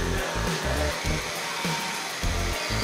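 An Oral-B Genius 9000 electric toothbrush brushing makes a close, steady motor whine broken by rhythmic low pulsing as the head moves, with no talk.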